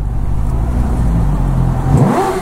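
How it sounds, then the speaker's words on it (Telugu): An inline-four superbike engine on its stock exhaust drones loudly and continuously, then rises in a quick rev toward the end. "సో ఒకసారి టన్నర్ లో రేవిచ్చి చూద్దాం."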